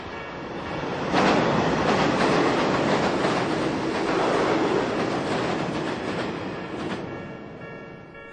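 Train rolls past nearby with a loud sustained rumble and faint clickety-clack of wheels, rising quickly after the first second, holding steady, then easing slightly as it continues by.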